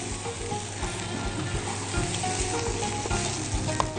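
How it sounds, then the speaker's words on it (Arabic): Molokhia and garlic stirred in a frying pan: a close, continuous sizzle with the scrape of a spoon moving through the greens, and no talking. "تقليبه حلوه بقى لكل الكلام ده كده مع بعضه"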